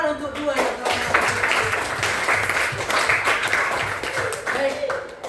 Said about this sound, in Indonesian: Kita tepuk tangan untuk dua yang telah melakukan.